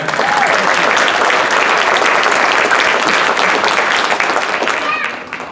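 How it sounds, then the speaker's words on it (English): Loud, dense audience clapping fills a school band concert hall without pause, tapering slightly at the very end. "go ahead, clap again"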